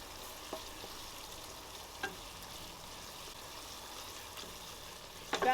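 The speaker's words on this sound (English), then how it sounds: "I'm just going to stir it." Nigerian chicken stew frying gently in a pot gives a soft, even sizzle and crackle, with a few faint knocks of the stirring spoon and a brief louder scrape right at the end, close and quiet, with no voices.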